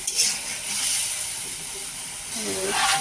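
Pieces of hilsa fish go into a pan of fried spice paste with a loud hiss and steamy sizzle that swells again near the end, heard close up alongside a voice.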